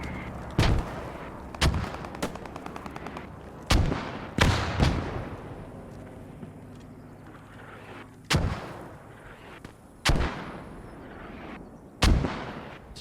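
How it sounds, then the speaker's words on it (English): Gunfire and heavy artillery rounds in the WW2 video game Post Scriptum: a string of loud, sharp booms spaced a second or two apart, some with a rattle of smaller shots, each trailing off into a rumbling echo. "Some more rounds going now."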